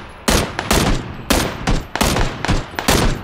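Loud, close gunfire in PlayerUnknown's Battlegrounds, a rapid series of about eight sharp shots in uneven bursts with no speech over them.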